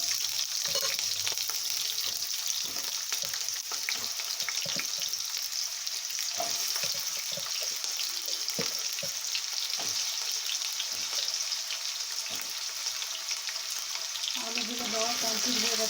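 Potatoes frying in a pan with green chilli, a continuous close sizzle broken by repeated spatula scrapes as they are stirred, with faint talk toward the end.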